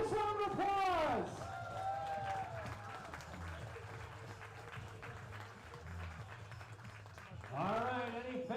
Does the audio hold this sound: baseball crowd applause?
yes